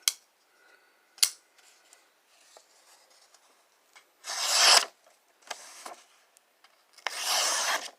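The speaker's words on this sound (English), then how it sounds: "There's your paper cuts." A Camillus Wedge knife slices through paper in several separate strokes, each a short dry rasping swish, the later cuts longer and louder, with quiet pauses between them and no talking.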